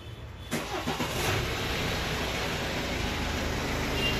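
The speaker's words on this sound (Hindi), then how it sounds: "गाड़ी स्टार्ट करिए," A BMW X1 engine cranks and catches after its catalytic converter was cleaned and refitted, a sharp start near half a second settling into a steady, close idle rumble with no talk.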